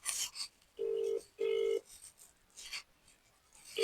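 An unanswered phone call rings out as a repeating ringback tone, two even beeps close together followed by a pause and a third beginning, with light rustling around them.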